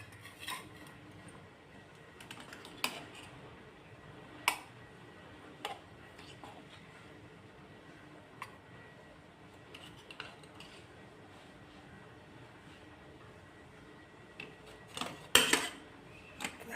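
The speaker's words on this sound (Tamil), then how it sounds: "இந்த சின்ன இட்லியெல்லாம் எடுத்து இந்த பாத்திரத்தில் போட்டுக்கலாம்" Mini idlis are dropped into a metal vessel, producing sparse, scattered metallic clinks and light taps at irregular intervals over a quiet kitchen background, with a small cluster of knocks near the end.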